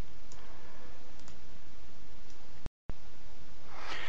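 Mouse clicks on column headers of a vulnerability scanner's report table on a computer, a few faint isolated ticks over steady background hiss, with a brief dropout near the end.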